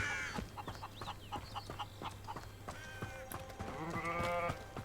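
Goats bleat in a fantasy wizarding video game, several wavering cries repeating close by over a soft ambient bed, with no talking.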